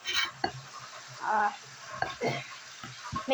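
Pancake batter being stirred in a bowl with a spatula: soft sticky swishes and scrapes in uneven strokes with a few sharp taps, close and fairly quiet, under a voice speaking.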